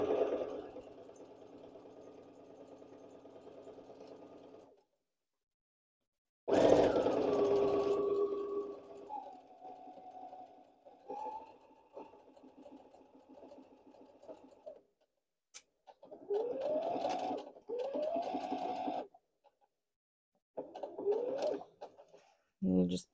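A Baby Lock Brilliant sewing machine stitches around a pocket on a gathered summer dress, running in short stop-start bursts with pauses while a person talks quietly between the runs.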